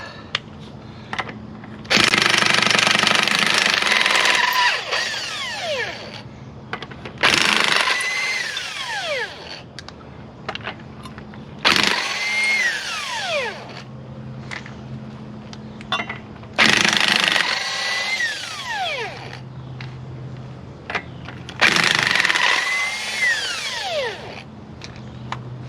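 A power impact tool removes 19mm lug nuts from a Jeep Wrangler wheel, with five loud, close bursts of rattling hammering, each a few seconds long, separated by quieter gaps with clinks and handling noise.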